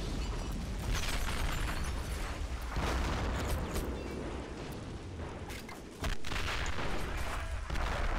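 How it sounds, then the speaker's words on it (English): Mortar shells exploding in a video game battle: repeated heavy blasts and bursts in a dense, noisy mix of combat sounds, with a brief dropout near the end, and no clear talk over it. "Mortars."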